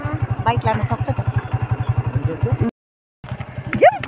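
A motorcycle engine chugs steadily while riding toward a tea garden in rural Nepal, its rhythmic pulsing loud and close, with a brief dropout before it resumes under a voice.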